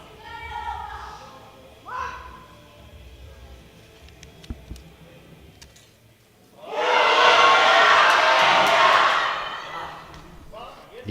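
A home crowd at a European classic powerlifting championship breaks into a loud, sustained roar and shouting for a Maltese woman lifter, rising suddenly after quieter hall noise with shouts and thuds.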